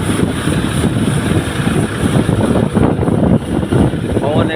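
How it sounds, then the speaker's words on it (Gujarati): Strong wind blowing at the shore of a dam, a loud continuous rumbling buffet against the microphone that surges and dips, with a voice talking underneath. "પવન એ બહુ છે અત્યારે"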